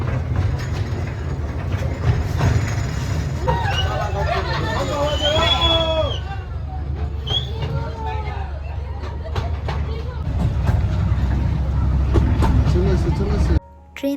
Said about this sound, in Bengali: ট্রেন তার স্টেশনে পৌঁছে গিয়েছে, এবার নামার পালা।